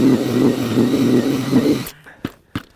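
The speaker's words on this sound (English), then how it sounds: "I'm going to get my trusty drill because I'm lazy like that." A power drill fitted with a mixer churns fishing groundbait in a steady, loud whirring drone for about two seconds. It cuts off abruptly, followed by two sharp knocks.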